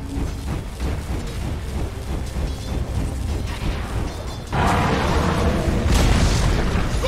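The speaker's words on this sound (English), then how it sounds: "Dire's middle tower is under attack!" Dota 2 tower under attack, deep booms and crashing impacts rumbling over dense game noise, growing louder and fuller halfway through.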